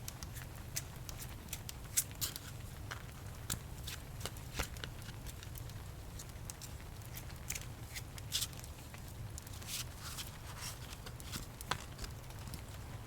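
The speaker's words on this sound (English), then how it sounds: "Shuffle the cards well." Playing cards shuffled close up in a soft, quiet fortune-telling scene, giving a steady stream of crisp riffling clicks and light pattering over a low, constant hum.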